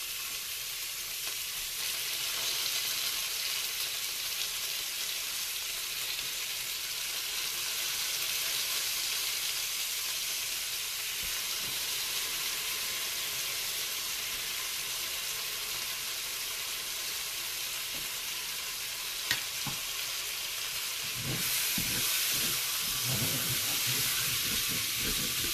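Lardons brown in a pan with a continuous close sizzle and hiss, fairly even over a long stretch, broken by a few sharp clicks and knocks near the end, with no talking.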